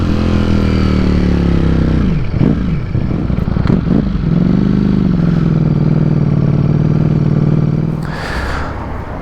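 Ducati V4 Streetfighter motorcycle engine while riding, a loud steady mid-pitched V4 drone that dips and rises through a couple of quick throttle changes, then settles again before trailing off as wind noise rushes in near the end.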